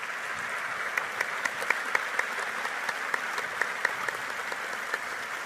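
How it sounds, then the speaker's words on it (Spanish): An audience applauds four panelists at a tech talk: a fairly quiet, steady patter of clapping from a modest crowd, with a few sharper individual claps standing out across about five seconds. "Yo les propongo un aplauso para ellos 4."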